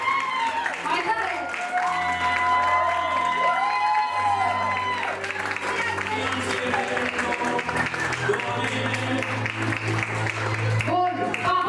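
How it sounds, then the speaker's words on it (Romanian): Audience applause and cheering at a lively live event, dense clapping and crowd noise throughout with voices shouting over it, loud and continuous. "Aplauze!"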